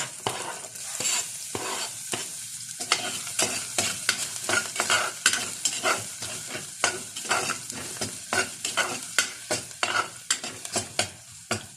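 Garlic sautéing in a hot pan for chicken tinola, a crackling sizzle broken by frequent rhythmic stirring scrapes and spoon taps against the pan, close and with no talking.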